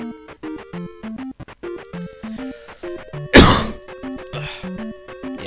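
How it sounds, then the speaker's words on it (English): A single loud cough breaks over looping retro chiptune game music from Zelda II: The Adventure of Link, and the music carries on afterward. "I'm getting over the cough slowly"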